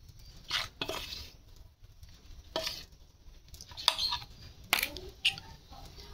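Gram flour batter mixed by hand in a bowl in a home kitchen, a few soft wet squelching strokes and light clinks of a utensil against dishes, fairly quiet with gaps between.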